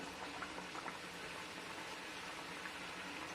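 Wheat flour jaggery burelu deep-fry in hot oil, giving a steady, dense sizzling and bubbling hiss, close and even, with no talking.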